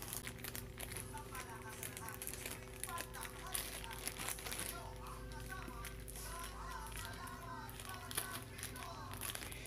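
Crinkling plastic packaging being handled while a parcel of acrylic paints is opened, steady rustling and crunching close up with faint voices and background noise underneath.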